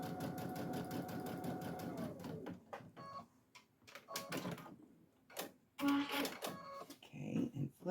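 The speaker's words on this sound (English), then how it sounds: "We're going to use 1/4 inch and just sew down this" A sewing machine stitches fabric units for a 4th of July placemat with a quarter-inch seam, running in a rapid, steady whir for a couple of seconds before stopping. Quieter clicks and fabric handling follow.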